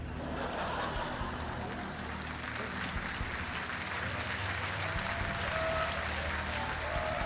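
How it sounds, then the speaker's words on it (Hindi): A television quiz-show studio audience claps in steady, dense applause that holds at an even, fairly loud level throughout, with no break. "न जाने क्यों जनता ताली बजा रही है"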